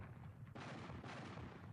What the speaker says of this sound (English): At that moment, there was a great sound of cannons.